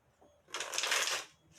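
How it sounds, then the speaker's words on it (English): Tarot reading cards being shuffled in a single brisk riffle of papery ruffling, fairly close and moderately loud for about a second, with a brief softer rustle after. "All right, Allie, let's get your other cards out tonight."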